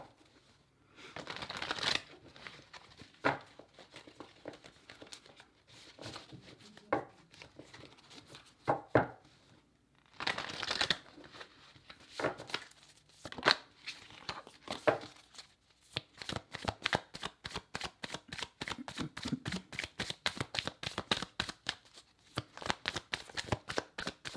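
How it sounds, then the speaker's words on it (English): Tarot cards shuffled repeatedly at close range, soft riffles and slaps that speed into a rapid, steady flutter near the end. "I'm just going to give it a quick little shuffle here"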